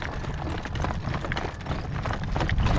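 A horse trotting outdoors on a trail in blustery wind, its hooves clip-clopping in a steady, close rhythm under a constant rush of wind noise throughout.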